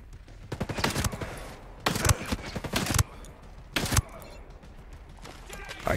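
Automatic weapons fire in the Ghost Recon Breakpoint video game: loud, close bursts of rapid gunfire with short gaps between volleys and a few heavier single shots.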